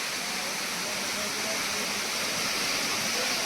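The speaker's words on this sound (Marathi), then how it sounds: "धबधबे गाव गावाच्या बाजूलाच आहे छान पैकी" A constant roar of a waterfall beside a village in Aambavali, Konkan, falling water dense and hissing, with a faint voice underneath.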